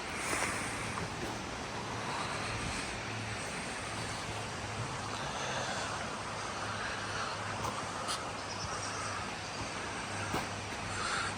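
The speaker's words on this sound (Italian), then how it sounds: "l'unico rumore che sentite è un fiume che passa sotto" A river flowing below in the woods gives a steady rushing of water that fills the scene, constant and broad, with a faint low hum underneath.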